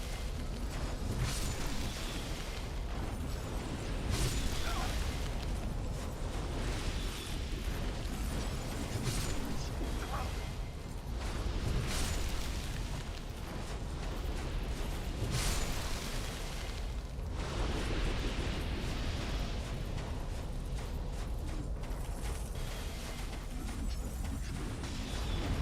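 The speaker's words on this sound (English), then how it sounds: "oh, it actually has friendly fire on that explosion" Explosions in the video game Dark Souls: loud, dense booms and rumbling bursts run almost continuously, with several heavier blasts rising out of the steady roar.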